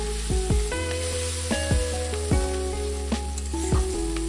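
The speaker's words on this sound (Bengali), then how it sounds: "এবার আমাদের মশলাটিকে ভালো করে কষিয়ে নিতে হবে" Spice paste for a katla fish curry sizzles loudly as it is sautéed, with repeated ringing metallic clinks and scrapes of a spatula against the pan.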